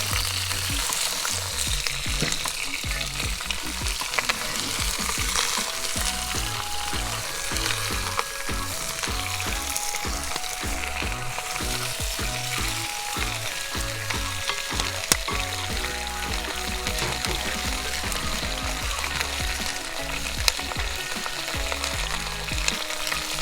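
Lamb potjie stew being stirred in a pot, a steady bubbling sizzle with soft scraping runs continuously and fairly loud throughout, with no talk.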